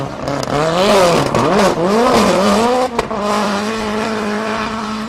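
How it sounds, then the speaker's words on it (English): Datsun race car at a Barbados hill-climb event, its engine roaring loudly and close as it revs and accelerates hard on tarmac, the pitch rising and falling with shifts while the rear tyres squeal for traction. "With every request by the right foot of Jeffrey Elliott, the Datsun threatened to break away and the rear wheels left some more rubber on the tarmac as it fought for traction"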